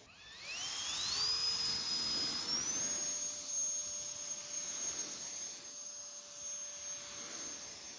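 Booster TF64 Turbo handheld cordless car dryer blowing air, a steady loud whine that rises in pitch as it spins up during the first few seconds, then holds a constant high tone over a broad airy rush.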